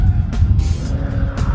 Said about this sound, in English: The twin turbo feels brutish as it comes on boost, and flings you out of the corner quicker than any other car in this test